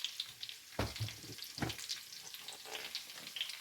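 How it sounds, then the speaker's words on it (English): Blended carrots fry with onions in a pan, giving a quiet, continuous sizzle broken by a few sharper crackles and stirring scrapes, heard up close. "That is on that frying."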